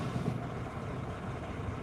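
A tractor truck rig's diesel engine sputters as it tries to start, a steady low rumble heard from some distance, fairly faint, with no voices.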